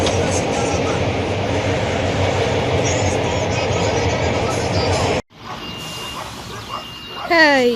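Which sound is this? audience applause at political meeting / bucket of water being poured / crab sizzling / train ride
train ride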